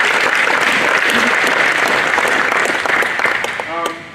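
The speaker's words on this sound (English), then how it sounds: "If you guys give these guys a big clap." A crowd at a coaches clinic claps loudly and continuously for the presenters, the applause holding steady before thinning toward the end as a voice briefly cuts in.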